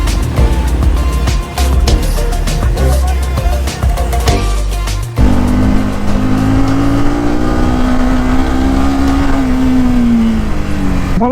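Sports motorcycle ridden on a rural road toward Lakuri Bhanjyang in Nepal, its engine revving loudly and steadily up close, with shifting pitch and a gear change midway, wind rumble throughout.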